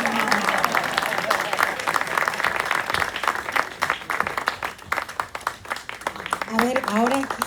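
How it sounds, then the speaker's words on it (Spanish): An audience breaks into a sustained burst of clapping applause at a talk or gathering, dense and loud throughout, with voices rising over the clapping near the end. "Y un aplauso para Estrella"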